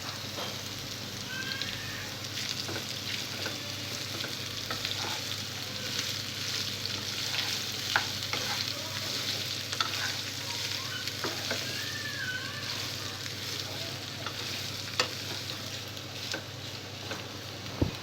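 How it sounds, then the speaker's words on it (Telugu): Bitter gourd pieces with turmeric frying in a pan, a steady dense sizzle broken by occasional scraping stirs, close and continuous with no talk. "కాకరకాయ ముక్కలు వేసిన తర్వాత కొద్దిగా పసుపు వేసి కలుపుకోవాలి."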